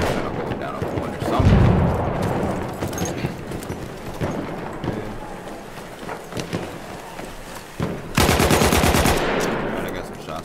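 Rapid gunfire in the Battlefield 1 video game: bursts of automatic fire and single shots, with a loud sustained volley near the end, mixed with other game sounds and background effects.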